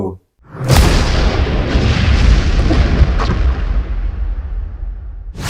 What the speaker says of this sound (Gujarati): ધમાકો